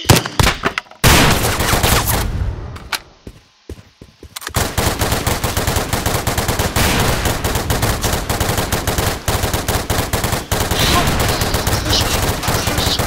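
Rapid automatic gunfire from a gun in the Roblox video game, loud and close, dense bursts of shots with a short break of quieter scattered pops before the sustained firing resumes.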